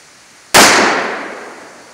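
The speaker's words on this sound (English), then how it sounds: "Save time, we're gonna go straight to 357 Magnum." A single loud .357 Magnum gunshot fired close by during a penetration test, a sharp crack followed by a long decaying echo that lingers for over a second.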